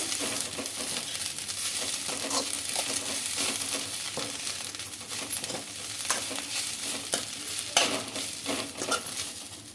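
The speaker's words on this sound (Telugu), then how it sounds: "మునగాకు బాగా ఫ్రై చేసుకోవాలండి, బాగా మగ్గాలి." Moringa (drumstick) leaves fry in hot oil in a pan for chutney, with a constant close sizzle and crackle broken by repeated scraping stirs of a spoon against the pan.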